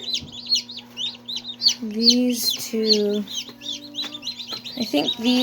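Newly hatched chicks peep in rapid, high, repeated chirps close by, with a voice speaking softly between and under them.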